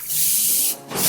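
Air hisses steadily out of a punctured tubeless bicycle tire, a loud broadband rush lasting about a second that dips briefly near the end before resuming, with no talk over it.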